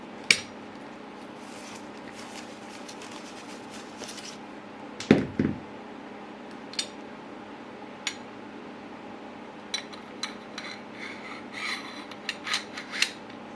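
Metal lightsaber hilt parts for a Star Wars Jedi: Survivor inspired saber dropped into place and slid together: one clanking metallic knock, then scattered small taps and scraping rubs, close and fairly quiet.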